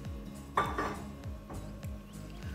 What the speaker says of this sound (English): we're going to go ahead and add those veggies that we just sauteed